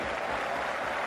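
A stadium crowd applauds during a Celta Vigo vs Barcelona football match, producing a steady, dense wash of clapping and crowd noise heard at a moderate level for a brief moment.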